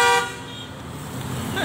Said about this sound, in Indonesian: ada Mang Ule nih lagi mau tes sound Basuri